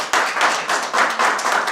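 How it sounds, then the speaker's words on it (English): An audience at a state Board of Canvassers meeting on an abortion rights ballot initiative breaks into clapping, a fairly close, steady patter of hands that swells in a few uneven waves over a short stretch. "Would again ask folks not to demonstrate, to applaud."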